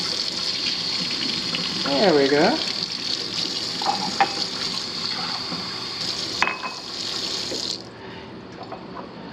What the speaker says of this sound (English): Get a little cold water going on here.